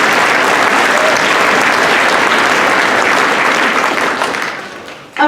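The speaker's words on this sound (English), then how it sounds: "she deserves a round of applause because she is just absolutely outstanding" Parents at an elementary school sixth-grade band concert give a loud, sustained round of applause that fades near the end before a final short burst.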